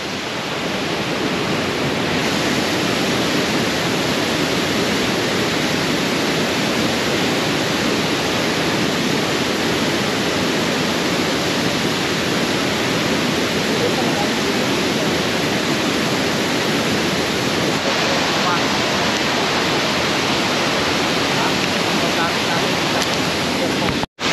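Hulugan Falls in Laguna roars as a loud, unbroken wash of falling water, heard up close and steady throughout with no breaks.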